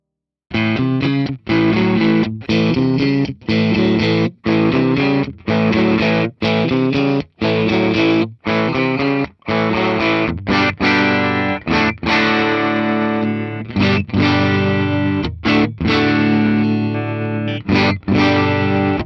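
A 2005 Fender John Mayer Stratocaster electric guitar played through distortion and effects, loud, with rhythmic stabbed chords and short gaps, then a denser sustained passage in the second half.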